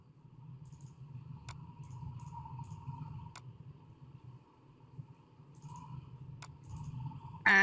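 A computer mouse gives a few faint, sharp clicks spaced irregularly against a quiet room hum while a user navigates folders in Android Studio.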